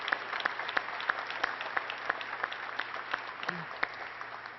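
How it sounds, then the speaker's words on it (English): Modest audience applause at a clean energy announcement in New York, a thin scatter of distinct claps with sharp individual hits, fairly quiet and steady, with no talk over it. "Let's give all the members of this family an incredible round of applause for their sacrifice."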